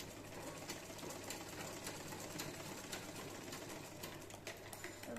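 A sewing machine runs continuously, stitching the shoulder seam of a lined saree blouse, a steady close mechanical whirr with rapid needle rhythm throughout.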